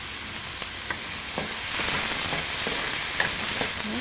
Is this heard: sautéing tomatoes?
yes